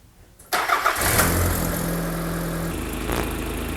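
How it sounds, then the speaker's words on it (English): A car engine fires up during a distributor timing tune-up: quiet, then an abrupt start that settles into a steady, rough idle, heard close and loud with no talking. "so start the engine."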